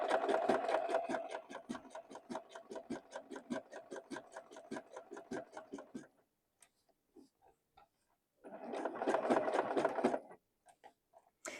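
A sewing machine stitches fabric for a handmade Christmas doll in two bursts of rapid, steady needle clatter, a pause with a few isolated clicks between them, heard close and alone.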